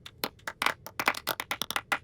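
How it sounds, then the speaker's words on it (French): A class claps in applause, a short burst of sharp, uneven handclaps from a few people close by, lasting about two seconds with no talking. "Un tonnerre d'applaudissements pour tout le monde."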